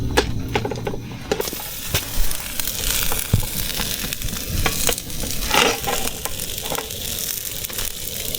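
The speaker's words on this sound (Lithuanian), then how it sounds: "kaip gražiai kepa kiaušinuką su dešrytėm." Egg and sausages fry in a pan with a steady, close sizzle and crackle, punctuated by occasional clicks and scrapes, and no one talks.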